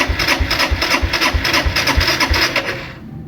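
Motorcycle that has sat unused for a long time and won't start, cranked repeatedly: a steady, rapid chugging pulse close by and loud for about three seconds, then it stops without catching.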